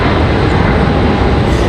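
United Boeing 737 MAX jet rolling down the runway on its takeoff run at Raleigh-Durham International Airport, a loud, steady broadband engine roar filling the short stretch without a break.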